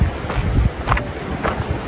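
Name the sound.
strong nonstop wind near a flowing river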